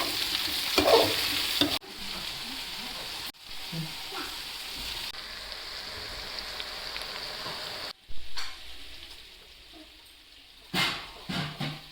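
Food frying in a home kitchen pan gets stirred, a steady loud sizzle with scraping strokes and brief interruptions, while people talk faintly in the background.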